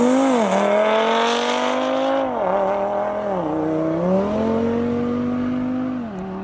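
An Audi five-cylinder with all-wheel drive launches hard from the line, its loud engine note climbing through several gear changes, each shift dropping the pitch before it rises again, heard close and alone.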